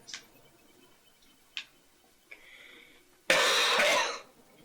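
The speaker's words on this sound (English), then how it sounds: "Well, got that cough in there." A single loud, harsh cough bursts out after a few faint ticks and a brief soft tone, lasting about a second before quiet returns.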